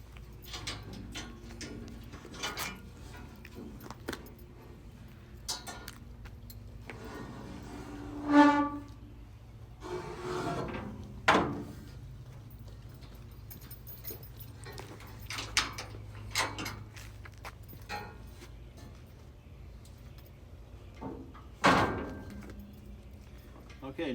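Metal handrails on a VannGo ADA restroom trailer are folded down, giving a few sharp metallic clanks and knocks spaced out over a steady low background hum, with softer scattered bumps between them.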